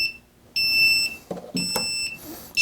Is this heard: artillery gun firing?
no